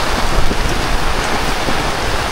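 Heavy rain drums steadily on a tent and awning at a lakeside campsite in Tanay, Rizal, a dense, loud, continuous wash of noise with no voices.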